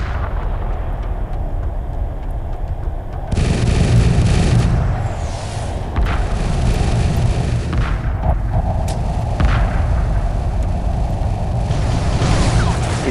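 Bombers attacking a space station in Homeworld 2: a steady roar of engines and weapons fire with repeated booming impacts, growing louder and denser partway through and staying intense to the end.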